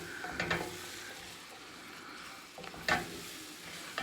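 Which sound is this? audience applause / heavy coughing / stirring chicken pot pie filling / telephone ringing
stirring chicken pot pie filling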